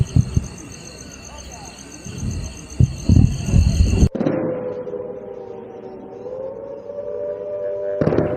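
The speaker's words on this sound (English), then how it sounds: "You can hear air raid sirens and explosions in the background." Air raid siren wailing in Samba, Jammu during a drone attack, a steady rising and falling tone heard from a distance under crackling background noise, with loud bangs and a sharp cut partway through.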